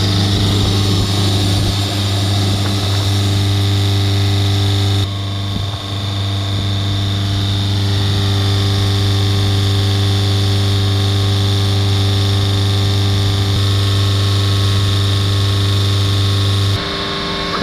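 A Citroen Berlingo engine held at raised revs by a diagnostic machine drones steadily and loudly for the whole stretch, a constant close mechanical hum with no talk over it.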